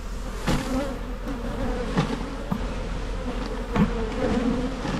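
Honeybees buzz in a busy, steady drone close by as they are brushed and dumped into a nuc box, with a few sharper bumps and knocks breaking through.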